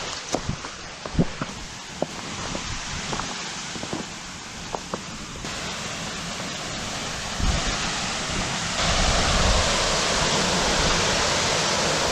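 Waterfall flowing in the Savage Gulf wilderness, a continuous rushing wash that grows louder and fuller toward the end, with scattered footsteps and knocks close by.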